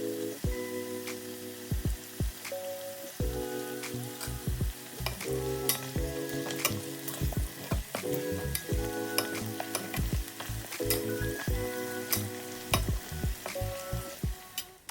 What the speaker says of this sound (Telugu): చికెన్ని ఆయిల్లో వేసినాక కొంచెం సిమ్ అంటే ఐ మీన్ మీడియం ఫ్లేమ్లో మాత్రమే ఫ్రై చేస్తూ ఉండండి